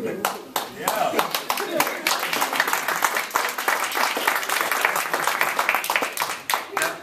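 Crowd applause following a congressional candidate's speech at Columbia University, steady sharp claps from many hands sustained for several seconds, moderately loud and near.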